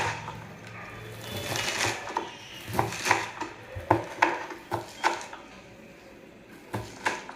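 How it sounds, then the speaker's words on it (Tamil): A knife taps unevenly on a cutting board, quiet and close, in short irregular bursts of finely chopping spring onions. "ஸ்ப்ரிங் ஆனியனை இப்போ நல்ல பொடிசாக நறுக்கிக்கலாம்"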